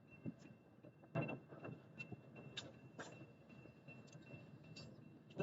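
A slow-moving northbound Union Pacific intermodal freight train passes at Stassney Lane, heard as faint, irregular rolling clanks and wheel knocks with a quiet rumble beneath.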